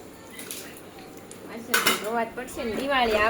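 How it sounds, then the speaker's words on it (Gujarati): Dishes being washed in a home during festival cleaning: clattering pots and pans and clinking cutlery, close and busy, with voices talking in the background toward the end. "વાસણ ધોવાઈ રહ્યા"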